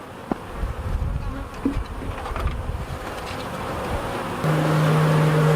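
Honey bees buzz all around during an open hive inspection, a close, dense drone with individual bees whizzing past. A steadier, louder hum rises near the end as the colony grows more agitated.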